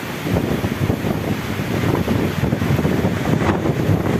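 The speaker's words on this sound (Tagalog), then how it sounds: "Lakas ng hangin." Strong wind roars steadily into the microphone, a dense, buffeting rush with no pauses, loud and close throughout.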